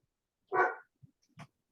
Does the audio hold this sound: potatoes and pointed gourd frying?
no